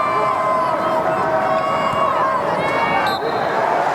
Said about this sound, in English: Here comes the Rutgers crowd again.